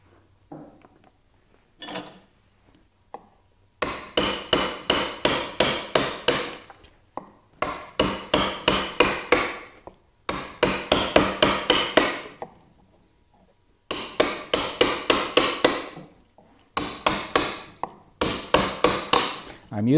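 A mallet strikes a number 3 gouge while roughing out a wood relief carving of a leaf. Sharp, close knocks come in quick rhythmic bursts of about eight to ten blows, separated by short pauses.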